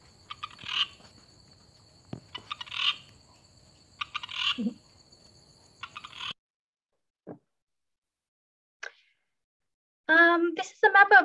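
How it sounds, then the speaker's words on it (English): A Spalding's rocket frog gives its advertisement call: a series of sharp, rapid, rattling chirps repeated at regular intervals, then a few isolated clicks after a pause, with a brief louder burst near the end. "unique advertisement call of the Spalding's rocket frog"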